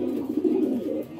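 Pigeons in a livestock or poultry enclosure give a low, soft cooing that rises and falls in one continuous phrase at moderate distance, with no talking.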